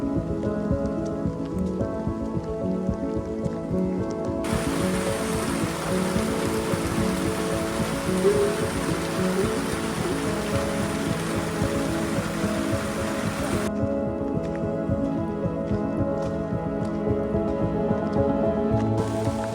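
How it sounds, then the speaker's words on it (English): Rain falls steadily on a mountain trail, a dense, even hiss of drops that holds at a constant level for the full stretch, with a brighter, heavier spell in the middle and no talking. "it's raining and it would have been up there"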